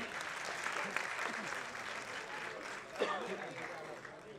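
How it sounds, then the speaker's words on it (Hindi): An audience at a film launch event claps, with steady, dense applause throughout and a brief swell near the end, and voices audible in the crowd. "एक बार जोरदार तालियां।"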